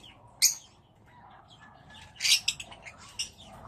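Pet cockatiel parrots chirping nearby, with a sharp chirp near the start and a burst of rapid tweets and squawks later, over faint background noise.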